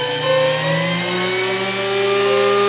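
A mini magnetic window motor energizer spins steadily while charging a battery, producing a loud, close, continuous whirring hum with stable tonal whine that drifts slightly in pitch, no voices.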